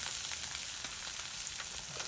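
Cajun-style smelts, some butterflied, fry over high heat in a hot pan, giving a steady, dense sizzle with faint crackles throughout and no voices.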